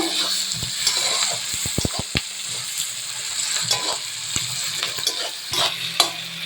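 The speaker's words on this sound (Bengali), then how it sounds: "পেঁয়াজ হাফ ভাজা হয়ে গেছে" Chopped onions with green chillies and salt fry steadily in a pan for a fish curry, a continuous close sizzle broken by sharp clacks of a spatula scraping and stirring.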